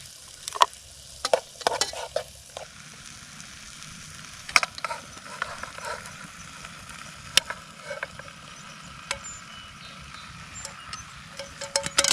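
Canned corned beef hash frying in a pan at a solo canoe campsite, a faint steady sizzle broken by scattered scrapes and clinks of a utensil on the pan.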